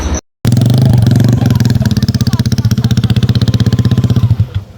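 A motorcycle with a racing exhaust starts after a brief silence and runs loud and close, its engine throbbing in a fast, even pulsing beat before easing off at the end.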